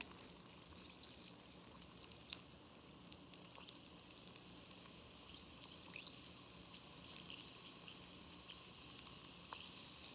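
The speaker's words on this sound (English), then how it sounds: "Still fizzing. You can hear the Pop Rocks" Pop Rocks fizz inside an edible drink bomb, a faint steady crackle dotted with tiny sharp pops scattered irregularly throughout.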